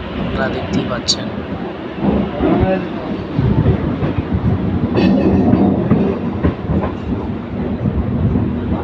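A nearly empty passenger train runs along with a steady rumble and soft clatter, close by, while people talk over it.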